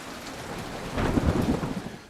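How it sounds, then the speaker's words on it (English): Steady rain pours with a deep rumble of thunder swelling midway, loud and close, with no voices, in a cinematic from the video game Stranglehold. "The rain works really great on the scene"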